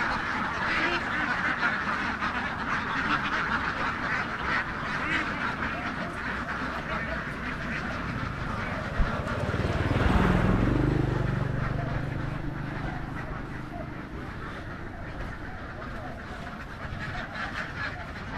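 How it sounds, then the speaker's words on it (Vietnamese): A farm flock of more than 2000 ducks quacking, a dense continuous chorus of overlapping calls throughout, with a vehicle or motor swelling past in the middle and a voice briefly speaking. "Đàn vịt."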